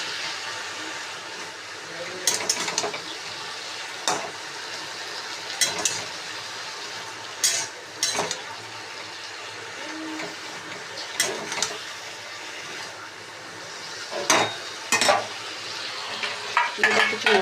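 Pumpkin shoot and leaf chorchori stirred in a pan, with repeated scraping, clattering strokes at an uneven pace over a soft, continuous sizzle, loud and close.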